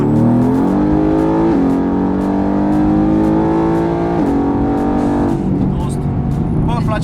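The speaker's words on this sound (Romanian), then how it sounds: "Este o mașină de cursă, suntem într-o mașină de cursă." Race car engine pulling hard and loud from inside the cabin, its pitch climbing through several gear shifts in steady stages, with a voice talking over the roar.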